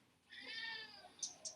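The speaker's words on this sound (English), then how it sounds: "And there's a cat that's going to join me." A ginger cat gives a single drawn-out meow, close and fairly soft, followed by a few faint high clicks.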